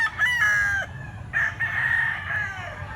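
Young rooster stag crowing nearby, two loud drawn-out cock-a-doodle calls in quick succession with a clear break between them.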